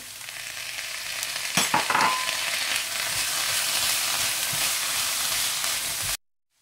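Sweet corn stir-frying in a pan for Schezwan rice, a steady loud sizzle with a few clattering stirs early on before it cuts off abruptly.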